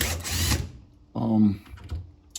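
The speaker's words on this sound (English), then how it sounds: "Take the drill, unloosen the screws" A power drill whines in a short burst after a brief spoken phrase, loosening screws on a GE front-load washer, with a faint mechanical rattle before and after.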